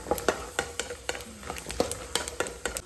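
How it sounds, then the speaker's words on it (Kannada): Asafoetida and peanuts fry in oil in a pan, a steady sizzle under repeated sharp clinks of a spoon stirring against the metal. "ಒಂದು ಬಾಂಡೆಗೆ ಸ್ವಲ್ಪ ಎಣ್ಣೆ ಹಾಕ್ಕೊಂಡು ಸ್ವಲ್ಪ ಇಂಗು ಹಾಗೆ ಕಡಲೆಕಾಯಿ ಬೀಜ"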